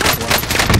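Rapid automatic gunfire in a Warzone match, fired through a wall in a dense, continuous loud burst lasting under a second.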